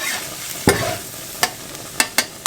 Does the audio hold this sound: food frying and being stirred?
yes